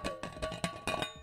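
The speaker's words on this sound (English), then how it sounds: "Now, that's the sound of my thermos." A metal thermos holding Cafe Bistro coffee is handled up close, giving four or five sharp, ringing metallic clinks and knocks in an uneven rhythm, with no talking.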